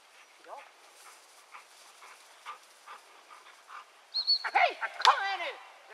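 A hunting dog at a training course in Hemsedal gives a short burst of yelps and barks near the end, preceded by quieter panting and soft vocal sounds, with people talking faintly around it.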